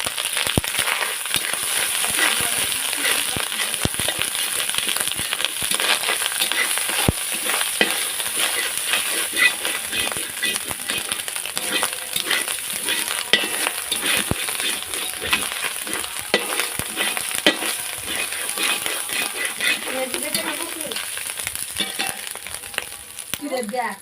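Ginger paste and garlic fry in a hot pan at a picnic cookout, a steady loud sizzle with scraping stir strokes and occasional crackles throughout.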